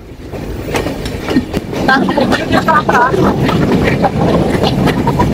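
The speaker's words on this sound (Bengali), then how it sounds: "আমাদের ট্রেনটি নওপাড়া রেল স্টেশন থেকে আবার খুলনা রেল স্টেশনের দিকে অগ্রসর হচ্ছে" A train rumbles along the rails from Noapara station toward Khulna, Bangladesh, with rhythmic clatter and wind noise, steady and close, with a voice talking over it.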